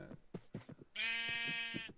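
A single drawn-out sheep bleat rings out in a video game, following a stretch of talking and holding steady for about a second.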